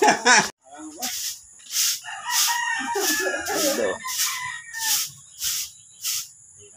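Roosters crow repeatedly at a game farm, several overlapping calls with sharp cackling, while a steady insect buzz hums throughout and a brief voice opens the scene.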